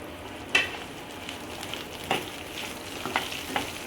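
Chopped red chilies fry with spices in a hot pan, a steady sizzle broken by a few sharp stirring scrapes and clatters, close by and with no speech.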